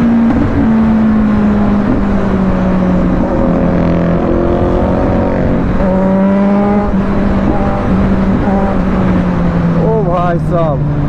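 Kawasaki Z900 motorcycles race on a road, their engines droning steadily and loud, with rising and falling engine pitches as they accelerate and a short burst of revving near the end, all under constant wind rush.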